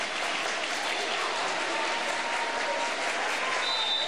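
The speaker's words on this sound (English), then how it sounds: "And they're clapping, as you can hear in the background." Dense, steady applause from a large crowd at a high school volleyball game fills the whole stretch, loud and continuous without pauses.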